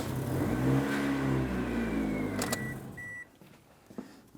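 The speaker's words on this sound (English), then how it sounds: "we're going to restart the vehicle and let it run" A 2003-2008 Toyota Matrix engine starts and runs at a steady idle after power steering pump replacement, loud and close, with a mid-pitched rumble that settles and a brief high whine partway through.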